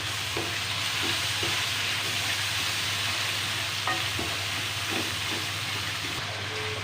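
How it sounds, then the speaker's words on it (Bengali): Spices fried and stirred in a pan for egg curry, a continuous close sizzle with light scraping strokes of the spoon at intervals. "এখন এই সবগুলো মশলাকে আমি ভালোভাবে কষিয়ে নেব।"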